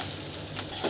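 Close, continuous scraping and sizzling as eggs with spices are stirred in a hot pan, with no talking.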